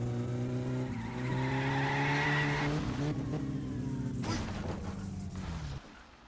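A car in the My Summer Car driving game speeds along a road behind another car, its engine droning steadily before the tires squeal and skid off the road, then the noise drops away.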